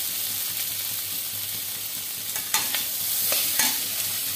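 Singara filling sizzles steadily in a pan with chili powder added, broad frying hiss throughout and a few sharper scrapes and clinks of a spoon stirring near the end, no talking.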